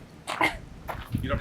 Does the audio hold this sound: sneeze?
yes